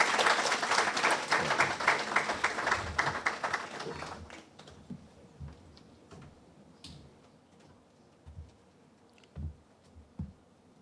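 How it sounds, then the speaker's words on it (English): Audience applause at an expert discussion on a single African common currency: dense, loud clapping for about four seconds, then dying away into scattered, isolated claps. "So let's get a round of applause."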